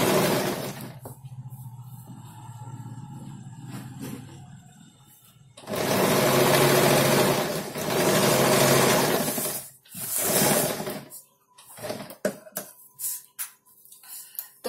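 An electric sewing machine stitches a kurti neckline in several separate runs, each a fast steady whirr lasting a few seconds, with short stops and quiet handling sounds between them.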